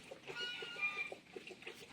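Soft clucking of a chicken at a farm, a string of short low clucks repeating faintly under quiet background noise and a thin high tone.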